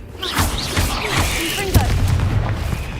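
A Confringo blasting spell explodes in a cave inside a video game, bursting with loud booms and whooshing crackles, while a voice speaks over the blasts.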